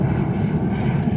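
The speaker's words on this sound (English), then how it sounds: "See, there goes another plane." A fixed-wing airplane passes directly overhead, a continuous low engine drone, loud and broad, filling the whole moment with no voices.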